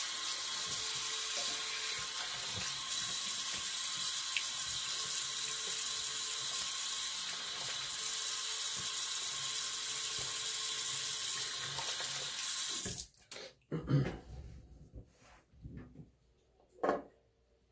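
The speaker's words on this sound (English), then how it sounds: "Let me go ahead and rinse off and go for round two." Water from a sink tap pours in a steady, close rush while someone rinses off after wet shaving, then stops suddenly, followed by a few scattered drips and clattering handling sounds.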